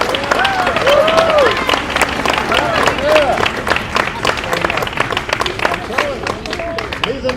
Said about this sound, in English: Give Abe a big round of applause.